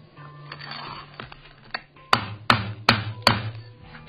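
A hammer strikes a freshly made arc weld to test it: four sharp, ringing metal blows land in an even rhythm, each about half a second apart, after some quieter handling clatter, with no speech.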